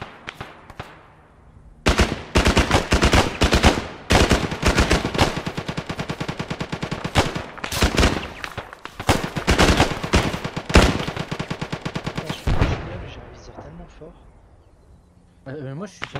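Rapid gunfire in the military video game ArmA 3, with dense automatic bursts and single shots cracking loudly over roughly ten seconds, fading to quieter pops near the end, with voices talking over it.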